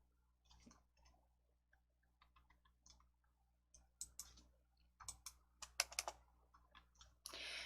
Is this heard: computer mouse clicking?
yes